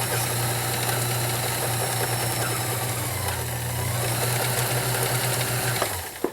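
Vintage 1970s Kenmore model 1914 convertible sewing machine running steadily for several seconds, a continuous close motor hum with a rapid mechanical stitching rhythm that stops abruptly at the end.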